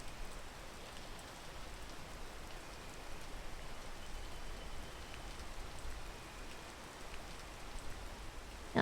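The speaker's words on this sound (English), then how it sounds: "if only the rain would stop" Steady rain falls outdoors as a faint, even hiss with no pauses and no voices.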